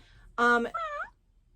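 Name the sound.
interactive plush toy cat meowing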